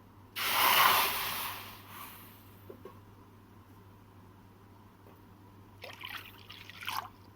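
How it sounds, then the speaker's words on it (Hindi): Water poured from a bowl into a kadhai on a gas stove, a brief loud splashing pour near the start that fades, followed by a couple of small clinks and later a few short splashes. "अब गैस पे कढ़ाई चढ़ाएंगे और इसमें 2 कटोरी पानी ऐड करेंगे।"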